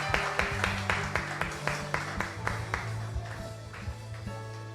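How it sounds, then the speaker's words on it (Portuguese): Church congregation giving a round of applause to the Lord, with rhythmic, fairly soft claps in a steady beat over sustained organ-like tones, recorded at a distance. "Dê uma salva de palmas ao Senhor"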